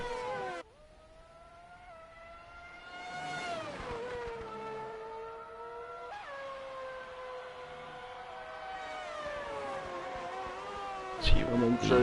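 A Formula 1 race car on a flying lap roars past with a sustained, rising and falling engine whine that sweeps up through the gears, loud and steady for several seconds before a sharp burst near the end.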